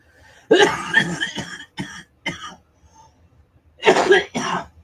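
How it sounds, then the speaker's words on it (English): A person coughs repeatedly in rough, uneven bursts, close by, with short gaps and throat clearing between the fits. "Don't make me laugh. I cough."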